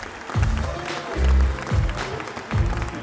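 A festival crowd at a concert stage roars and applauds in swelling waves, loud and dense, with deep rumbling bursts rising and falling several times over the short stretch.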